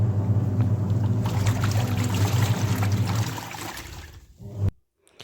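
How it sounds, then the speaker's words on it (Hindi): A washing machine runs with water and detergent inside, churning and sloshing steadily at close range before the sound tapers off and cuts to near silence at the end. "फिर मशीन चला दी थी।"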